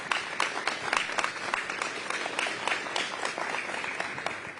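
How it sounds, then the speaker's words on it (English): An audience at an Invictus Games event breaks into sustained applause, many hands clapping in a dense, even patter that carries on steadily throughout with no speech over it. "A round of applause for our friends at ATCO."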